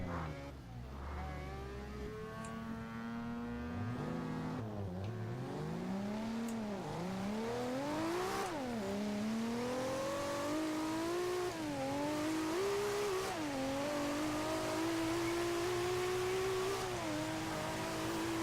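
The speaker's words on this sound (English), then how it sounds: "I have to go so slow when I'm accelerating through all these gears." A 1400 bhp Toyota Supra in Forza Horizon 2 accelerates hard through its gears, engine note climbing and dropping repeatedly with each shift, loud and continuous over about eighteen seconds.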